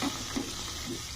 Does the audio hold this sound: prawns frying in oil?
yes